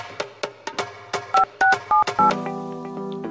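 A phone being dialed produces a quick series of beeping keypad tones, evenly spaced and fairly loud. They lead into a steady ringing tone on the line. There is no talk.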